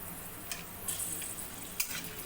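Cinnamon pieces, cloves and cardamom pods fry in hot oil as the base for a Bengali chicken kosha, giving a soft continuous sizzle with a few quick stirring scrapes.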